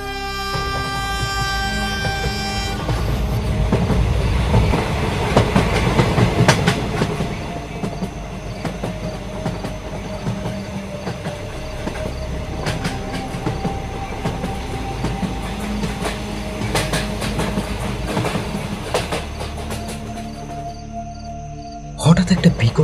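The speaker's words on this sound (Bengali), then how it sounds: "ট্রেনটা চলছিল" A train runs steadily along the rails in an animated horror story, a continuous rumbling clatter with tonal squeals and hums over it. Music or another tonal layer sits on top early on, and there is a sharp louder burst at the very end.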